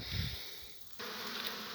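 Honey bees buzzing at an apiary, a dense, close swarm hum that drops briefly and then swells back to a steady loud drone.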